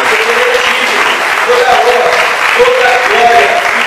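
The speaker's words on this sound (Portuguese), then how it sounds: "Você pode aplaudir o nosso rei dos reis e senhor dos senhores" A church congregation applauds loudly and continuously, dense clapping filling the room while voices rise over it.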